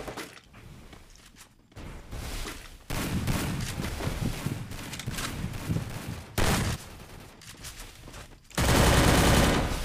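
Rapid automatic gunfire and scattered single shots in a battle royale video game firefight, loud and sustained with bursts stopping and restarting and a harsh blast near the end, with no talking.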